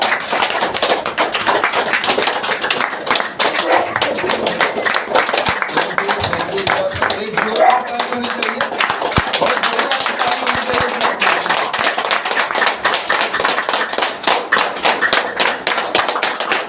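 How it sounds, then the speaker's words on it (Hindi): Dense, steady clapping from a crowd at a DXN product training meeting, continuous and loud throughout with a few voices mixed in. "जोरदार ताली आप सभी लोगों के लिए।"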